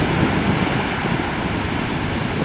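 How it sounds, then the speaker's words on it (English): Ocean waves and wind roar continuously at sea near a small boat, a loud, dense wash of surf and gusting air with no voices. "Those waves are doing a number on them."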